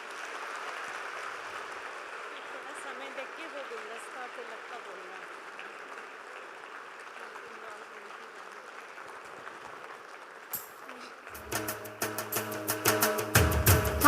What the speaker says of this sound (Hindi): आदरणीय दादी जी के स्वागत में ठंड की इस मस्त बहार में तालियों की गड़गड़ाहट हो जाए।